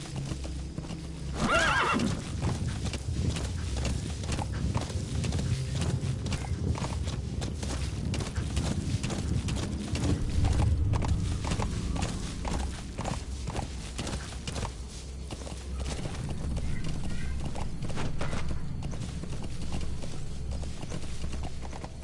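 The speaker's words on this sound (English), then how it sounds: "just a lonely horse moving around." Hooves clip-clopping steadily as a horse walks around in the video game Metal Gear Solid V, with a short whinny early on, all over a constant low background hum.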